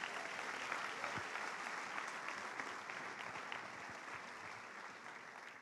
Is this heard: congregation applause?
yes